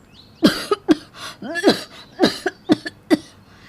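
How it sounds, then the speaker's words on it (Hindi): Loud, harsh coughing in a rapid series of about eight sharp bursts, close by, with a throaty wheeze between some coughs. "ज़ोरदार खांसी हो जाती है"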